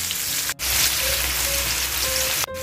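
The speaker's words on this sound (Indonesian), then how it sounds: "tumis bawang." Onions sautéing in a hot pan for sambal ayam, a steady close sizzle and crackle with no talk, broken by two brief sharp drops in sound.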